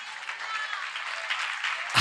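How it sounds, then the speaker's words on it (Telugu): A church congregation clapping together, a brisk, fairly even patter of many hands that swells slightly and ends with a louder thump. "చప్పట్లు కొడదామా?"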